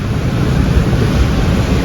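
A river at Manavadar in heavy rain rushes with a loud, steady roar of flowing water outdoors, mixed with wind buffeting, unbroken throughout with no voices.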